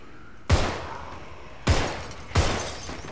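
Three loud, sharp gunshots in a zombie-shooting video game, each a close, booming crack with a short decaying tail, spaced unevenly over a few seconds.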